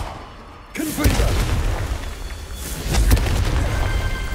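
A Confringo blast spell goes off in Hogwarts Legacy as a sudden booming burst. A second thump follows a couple of seconds later, with a voice briefly audible among the game effects.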